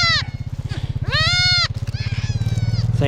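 Goats being moved across a pasture, with several loud, drawn-out bleats close by over a steady rhythmic thumping, some calls overlapping and others fainter.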